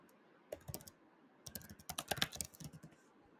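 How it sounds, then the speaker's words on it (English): Typing a question on a computer keyboard into a chatbot prompt: two bursts of close, crisp key clicks, a short cluster then a longer rapid run, with no talking. "let me just type in, can you explain transformers to me?"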